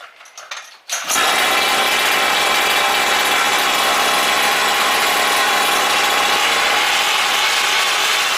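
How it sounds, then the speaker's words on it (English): A few clattering handling noises, then a small RC car engine, a Primal RC Raminator with an upgraded TMR performance engine, starts and runs at a loud, steady, high-pitched idle drone without letting up. "we'll just start it so you can hear the difference when it's just obviously idling."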